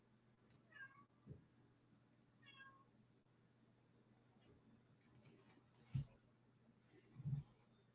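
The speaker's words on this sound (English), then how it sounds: "Kitty cat's making feel sorry for me, poor me sounds in the background." A cat meowing softly in the background of a quiet room, a few short plaintive mews early on and two lower, louder cries near the end, with faint scattered rustling.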